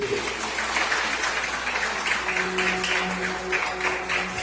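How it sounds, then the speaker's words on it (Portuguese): Church congregation at a Sunday morning worship service claps in praise of God, sustained clapping filling the room at moderate level, with a soft held musical tone underneath. "A igreja pode aplaudir o nosso Deus"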